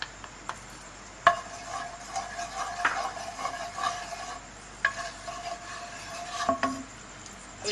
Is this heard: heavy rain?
no